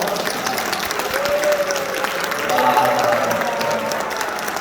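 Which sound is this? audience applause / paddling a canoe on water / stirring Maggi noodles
audience applause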